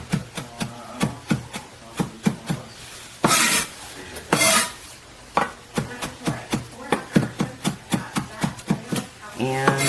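Close, crisp knife chops on a cutting board as greens are finely cut with a sharp Misen 8-inch high-carbon chef's knife, rapid steady strikes broken by a couple of longer scraping sweeps.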